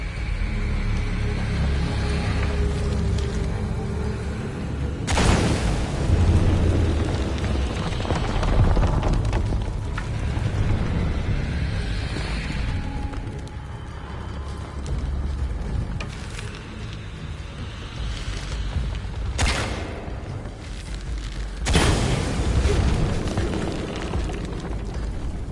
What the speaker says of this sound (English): Exploding that gas might move the pendulum.